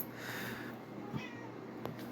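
A cat meows, a couple of faint, brief mews over low background noise, fairly distant and quiet, with no talk during them.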